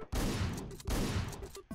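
Gunfire in the video game Hotline Miami: two loud, dense bursts of shots, each lasting most of a second with a brief gap between, close and harsh with no talk over them.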